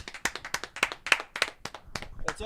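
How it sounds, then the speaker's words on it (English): A small group claps together in a bar setting, a short burst of distinct, uneven handclaps heard up close without talk over it. "Round of applause, guys."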